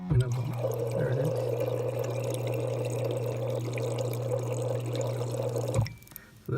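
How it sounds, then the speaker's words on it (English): Steady water flow fills a Samsung refrigerator ice maker tray, a continuous close pouring and trickling that runs evenly for about six seconds before stopping abruptly, with someone talking over it. "So that's a good water flow."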